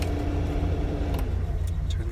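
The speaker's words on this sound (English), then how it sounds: "You can hear the fan. The fan is very wimpy." Weak heater fan whirring inside a parked 1975 Lancia Fulvia, a steady low drone with faint tonal hum, close by and unbroken.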